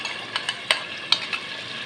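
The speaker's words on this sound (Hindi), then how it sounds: "इसको हम फ़ौरन मिक्स करेंगे ताकि दही हमारी जो है दही पक न जाए" A spoon stirs yogurt into chicken daigi qorma masala in a pot, giving a few soft scraping and clinking strokes over a faint sizzle, with no talking.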